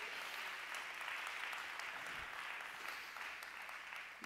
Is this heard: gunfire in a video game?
no